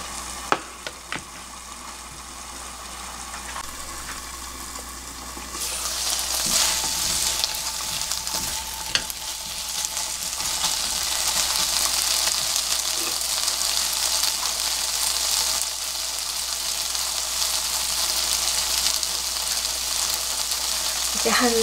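Potatoes braising in soy sauce in a pan give a steady, close sizzle and bubbling that grows louder and fuller partway through and then holds evenly.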